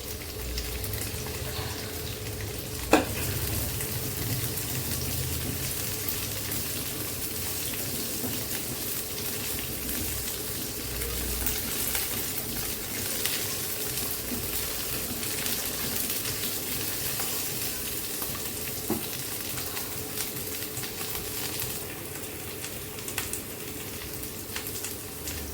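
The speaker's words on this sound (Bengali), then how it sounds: "সেই গাজর কুচিটা আমি এখন দিয়ে দিচ্ছি তেলের সাথে ভেজে নেব।" Chopped carrots with a little chopped green chilli frying in oil in a pan, giving a steady, quiet, even sizzle with a single soft clink near the start and no voices.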